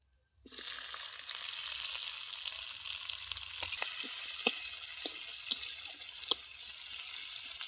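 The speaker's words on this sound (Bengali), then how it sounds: "পেঁয়াজটাকে খুব ভালোভাবে ভেজে নিচ্ছি" Chopped onion and garlic hit hot oil with a sudden loud sizzle that continues steadily, with scattered pops and spatters throughout, with no talking.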